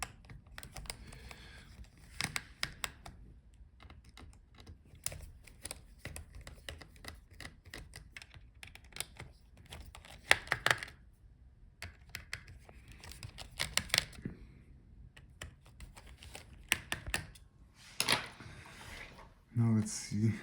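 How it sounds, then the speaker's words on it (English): Small screws being undone from the heatsink and fan of a Dell Inspiron 16 7630 laptop, heard as scattered light ticks and scrapes close by, with a voice talking over parts of it. "So unscrew all the screws for the heatsink and the fan."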